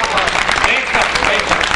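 A crowd at a speech gathering breaks into loud, dense applause: brief, close, continuous clapping that fills the whole short moment.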